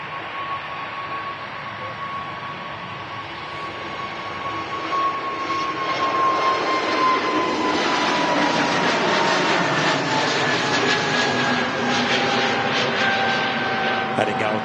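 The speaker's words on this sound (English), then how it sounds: "Heading out to Copenhagen was that Scandinavian A320 Neo" Scandinavian Airlines Airbus A320neo jet departing Manchester Airport for Copenhagen, a loud sustained engine roar with a whining tone that swells as the aircraft passes, then holds steady.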